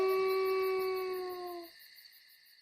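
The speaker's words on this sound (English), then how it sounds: "It was a sad howl." A single long, mournful howl from a wolf, a sustained wavering tone that holds steady and then breaks off abruptly, leaving near silence.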